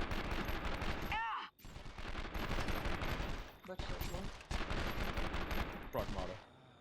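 Rapid bursts of gunfire in the 24: The Game video game while shooting enemies and disarming a bomb, dense and loud with brief gaps between volleys.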